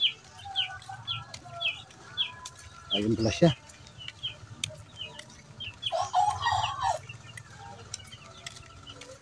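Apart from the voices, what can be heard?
many chickens clucking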